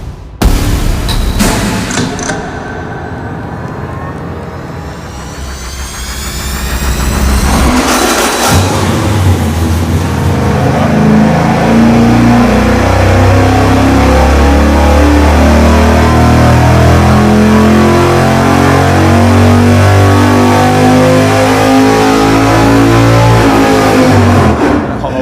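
Engine on a dyno with a hydraulic roller camshaft, a roughly 600 horsepower build, loud close idle and blips, then a sustained full-throttle pull with engine pitch climbing steadily for about fifteen seconds before cutting off.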